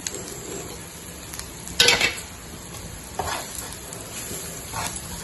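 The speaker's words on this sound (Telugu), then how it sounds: "పుదీనా, కొత్తిమీర, పచ్చిమిర్చి కలిపిన కైమానే వేసుకున్నాం. వేసుకొని ఇలా వేయించుకుందాం" Minced meat mixed with mint, coriander and green chilli frying in a pan: a steady soft sizzle broken by a few bursts of spatula scraping, close and moderately loud.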